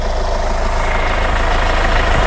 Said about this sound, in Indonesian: Suara dieselnya ini halus banget loh.